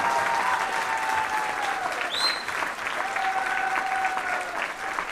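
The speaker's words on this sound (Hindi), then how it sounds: "एक जोरदार तालियां बढ़िया से" A crowd at a grand product launch event breaks into sustained, loud applause lasting the whole stretch, with faint whistles or cheers rising through the dense clapping.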